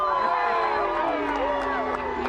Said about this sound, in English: you hear the crowd saying Zeus